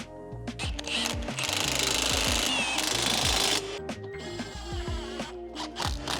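Hand tools and a rattling power tool tighten bolts on coilover suspension fitted to a Subaru WRX, with rapid clicking and buzzing in a busy, close workshop sound, a sustained whirring run in the middle.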